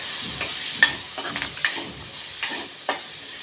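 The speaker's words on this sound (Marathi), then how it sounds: "आता ह्या मसाल्यात आपल्याला पहिल्यांदा बटाटा टाकायचा आहे बटाटा मसाल्यामध्ये छान परतून घ्यायचा आहे" Potato pieces sautéed in masala for a bhindi sabzi give a quiet, steady sizzle, broken by soft stirring scrapes and a few sharp spoon taps against the pan, close by, with no voices.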